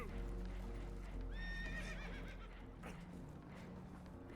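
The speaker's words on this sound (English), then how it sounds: "Horses are spooked, and we're taking on water." Spooked horses whinny in Red Dead Redemption 2 aboard a damaged boat, one shrill neigh rising and falling mid-clip over a low rumble, fairly faint, with hoof clatter.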